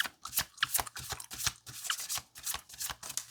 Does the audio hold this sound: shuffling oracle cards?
yes